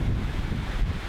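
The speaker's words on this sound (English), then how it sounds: "You see the wind's pretty gusty when we get up to this hole." Gusty wind buffets the microphone on an outdoor disc golf course during a tournament round, a steady low rumble with no voices over it.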